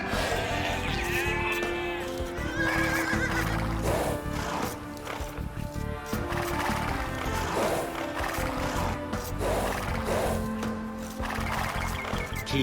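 A scout cavalry horse in Age of Empires II Definitive Edition clip-clops and whinnies, mixed with sheep bleats over steady in-game music, with no one talking.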